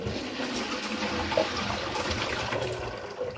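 Boiled perogies and their hot cooking water pour into a strainer as a continuous rushing, splashing stream, moderately loud and steady for a few seconds, with no talk.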